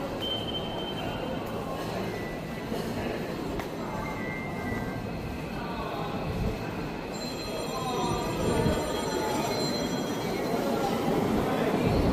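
A train rumbles along the rails with a continuous low roar, metallic squeals and whines rising over it, and faint voices in the background.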